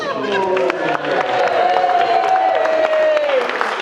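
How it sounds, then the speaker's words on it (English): A wedding crowd claps and cheers continuously during the speeches, with scattered whoops and excited voices mixed into the steady roar of applause. "Applause."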